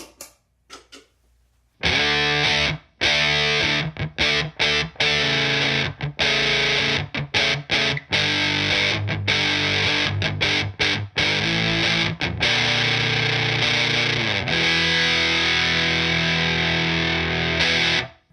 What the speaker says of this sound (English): change over to the vintage distortion.